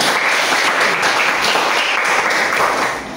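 Classroom applause after a group presentation, dense continuous clapping from many hands, loud and close, holding steady for about three seconds before starting to fade.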